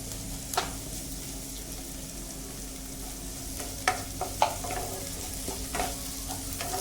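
Capsicum stir-fried with onion and tomato in hot oil for suji upma, giving a steady soft sizzle with a few sharp clicks and scrapes of the spatula over the pan, close by and with no talk.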